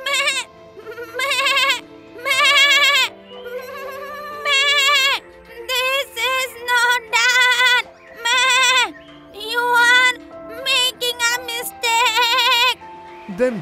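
A cartoon goat bleats again and again in long, loud, wavering cries, calling almost nonstop with short gaps between the calls.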